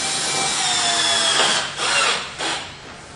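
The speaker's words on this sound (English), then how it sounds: "Getting all the screws in" Power drill driving screws into a Color Guard railing, a loud close whirring drive that rises and falls in a few pulses as each screw seats, with no voices.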